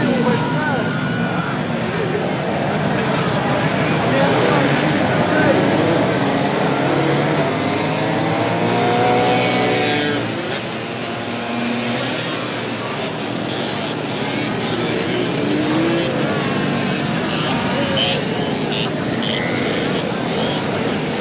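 Mopeds race round an arena, their buzzing engines forming a loud, continuous blended drone that swells and dips slightly as they pass, with crowd noise mixed underneath.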